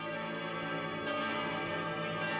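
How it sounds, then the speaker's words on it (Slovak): A church bell tolls with a long, resonant ringing tone full of sustained overtones, struck again about midway and near the end, moderately loud and alone without speech. "Komu zvoní zvon?"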